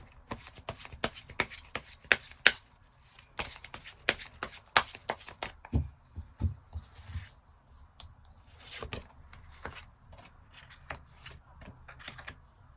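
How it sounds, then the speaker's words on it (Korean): Tarot cards being shuffled and drawn, a run of crisp riffling snaps and soft slides in uneven bursts, close and fairly quiet, with no talking. "추가 카드 뽑아보도록 하겠습니다."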